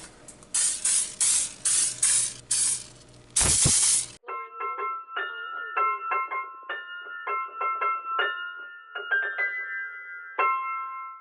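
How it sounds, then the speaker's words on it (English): Several short hissing bursts of cooking spray from an aerosol can, close up, followed by a quieter stretch of clicking and tonal kitchen-like sounds. "some cooking spray"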